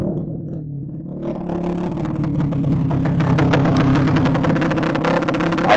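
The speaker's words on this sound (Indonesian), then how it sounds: "maaf memang dekat itu ada motor knalpotnya berisik" A nearby motorcycle with a noisy exhaust rumbles steadily, building from a low idle into a louder, rough, continuous drone that dominates the clip.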